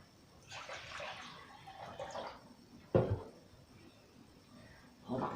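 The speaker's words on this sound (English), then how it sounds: "I'm going to pour that into the jar" Cold water poured into a jar of apple scraps for cider vinegar, a soft continuous trickle and splash with a brief sharper slosh partway through, close and fairly quiet.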